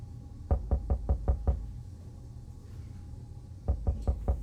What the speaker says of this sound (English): There's nothing more surprising than a knock on a fallout shelter door.